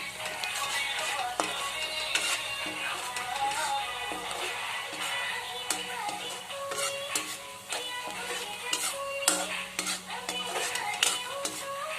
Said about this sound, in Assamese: এইখিনি অলপমান ৰঙচুৱা কৰি লৈছোঁ পিঁয়াজখিনি